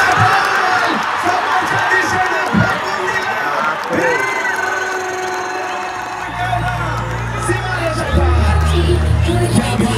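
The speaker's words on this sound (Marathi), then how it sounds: "या ठिकाणी प्रेक्षकांनी प्रचंड गर्दी केली आहे" Large crowd of spectators at a tennis-ball cricket match in Alibag, a dense, continuous roar of many voices with cheering and shouting swelling near the end, loud and close throughout.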